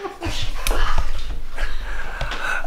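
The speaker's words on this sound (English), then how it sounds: "It's in her mouth, and she's still barking at me." A dog makes muffled barks and whining yips at close range while holding a treat in its mouth, in short irregular bursts with some breathy sounds between them.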